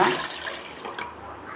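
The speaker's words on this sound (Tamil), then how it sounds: "மிக்சி கழுவுனா தண்ணியும் இதில் ஊற்றிக்கலாங்க." Rinse water from a mixer jar poured into strained tamarind water in a Tamil kitchen, a steady close splashing pour with a brief louder start, no talking.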